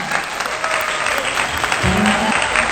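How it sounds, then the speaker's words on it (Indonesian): Crowd applause at a political gathering held at a party event, dense continuous clapping filling the room at close range, with a brief low hum or murmur partway through. "Tepuk tangan dulu dong."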